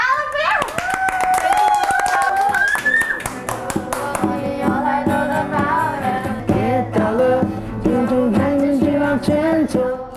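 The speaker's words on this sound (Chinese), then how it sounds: "就是掌声不够热情" An audience claps again at a Taiwanese community event, a dense burst of clapping in the first few seconds that fades while people talk over the rest.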